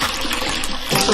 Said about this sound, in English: we're just going to pour it all into the bowl